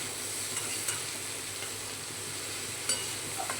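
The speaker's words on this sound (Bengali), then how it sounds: "ভালো করে মিশিয়ে দেব।" Paneer chatpati sizzles softly in a pan as a spoon stirs it, a low steady frying hiss broken by a few light scraping clicks, close but quiet and without any talking.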